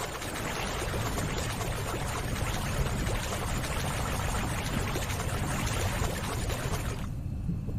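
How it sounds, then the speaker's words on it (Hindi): Deep-sea ambience in the Windows game Constant Battle: a dense, steady, muffled wash of churning water that fills the scene evenly, then cuts off abruptly at the end. "ये समंदर के नीचे का साउंड बहुत मजे का है"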